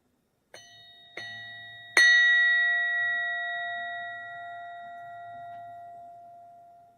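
A sound healer's gong is struck three times in quick succession, the last hit strongest, each leaving a long, bright, sustained ringing tone that slowly decays over several seconds in a quiet room.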